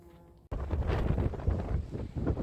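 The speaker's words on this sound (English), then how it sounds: "It's a little bit windy today," Strong wind buffets the microphone with a loud, steady rumbling roar after a brief quieter moment at the start.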